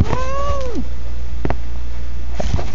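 A house cat gives one loud, close meow that falls away over a steady background hum, followed by small faint handling noises.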